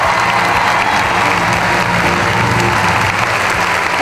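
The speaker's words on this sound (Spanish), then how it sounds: "Fuerte aplauso, por favor." Steady, dense applause from an audience honoring Guatemalan artist Gaby Moreno at a Medal of Peace ceremony, continuous and fairly loud without a break, with a faint murmur of crowd beneath the clapping.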